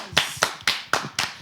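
Two people clap in a quick, steady rhythm of six sharp, close claps across a moment, with no talk, during a Togolese cooking segment featuring Aïmolu.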